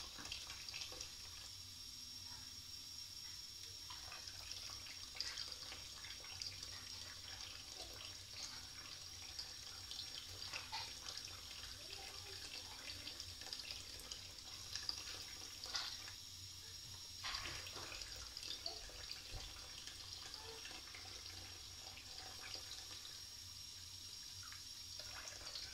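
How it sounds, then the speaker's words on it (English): Water poured into an indoor garden planter holding spinach beets, a steady soft trickle that runs on and on with small splashes and drips, fairly quiet and close, with no talking. "So the corners are dry, so I need to add just a little bit of water."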